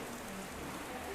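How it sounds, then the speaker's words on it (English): Steady rain falls outside windows of an old house, a faint, even hiss of drops with no talking over it. "They're also keeping the rain off the windows too right now."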